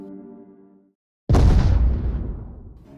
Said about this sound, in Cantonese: 3點56分，3樓肯德基嘅男廁突然發生爆炸